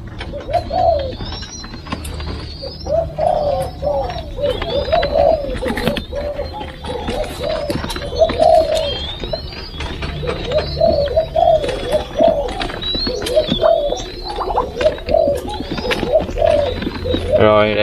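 Spotted doves in a breeding cage coo over and over in soft, rhythmic phrases, several birds close by, with a person speaking now and then between the calls.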